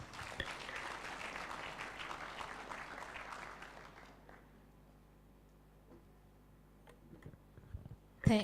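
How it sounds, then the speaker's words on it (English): An audience at a pandemic preparedness project launch applauds a speaker with dense clapping that fades after about four seconds, followed by scattered faint clicks and a brief louder thump at the end. "Let's give a round of applause"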